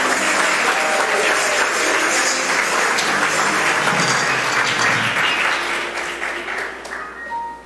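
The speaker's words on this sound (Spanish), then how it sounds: "¿Iba a aplaudir? Aplaudo, está bien." Church congregation applauding during a Sunday sermon, a dense, loud wash of clapping that runs steadily for several seconds before thinning out and fading near the end.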